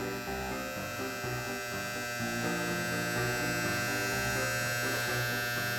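An Andis T-Outliner electric hair clipper running steadily after a tension adjustment, giving a continuous, even buzzing hum at constant loudness with no talk.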